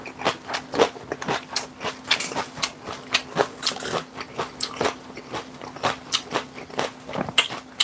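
Close, crisp crunching and biting from eating rice topped with aged kimchi, a steady run of sharp chewing clicks over about eight seconds with no talking.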